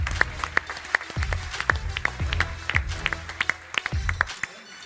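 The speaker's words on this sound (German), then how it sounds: "Einen großen Applaus für Kerry Hau" Scattered, uneven clapping from a studio audience on a German sports entertainment show, loose individual claps mixed with heavier thumping knocks and movement rather than a full ovation.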